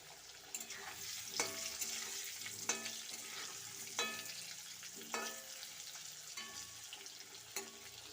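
Potato pieces frying in oil with a pinch of turmeric for a winter vegetable khichuri, a steady faint sizzle broken by regular scraping stirs of a spatula against the pan.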